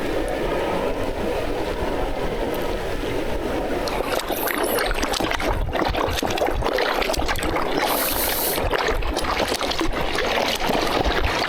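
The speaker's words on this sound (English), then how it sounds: "That sound is the sound of boat wakes crashing against the shore." Boat wakes slosh and crash against the shore of a narrow inlet, a steady loud churning wash of water with bursts of splashing, close by and continuous with no talking.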